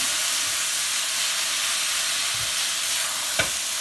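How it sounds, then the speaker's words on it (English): Minced meat fries in olive oil in a hot pan, a steady close broadband sizzle and hiss with a couple of soft stirring knocks, one sharper scrape near the end. "I'm just going to fry it off until it's all cooked all over."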